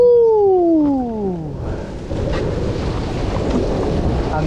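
Steady rain in Florida hisses continuously, loud and close, after a falling whine at the start; no distinct thunder clap stands out.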